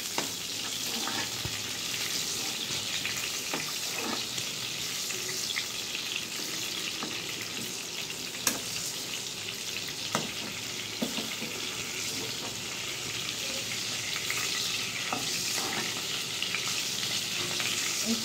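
Pieces of pointed gourd fry in a pan with a constant hissing sizzle at close range, punctuated by occasional clicks and taps of a spatula, no talking.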